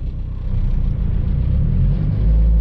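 A turbocharged K20-swapped Civic hatchback drives along a street, its engine a steady, loud low rumble that holds constant throughout with no break and no voices.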